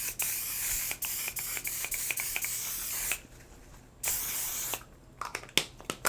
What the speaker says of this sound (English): I am gonna go in with my 1-star Until Dawn setting waterproof setting spray.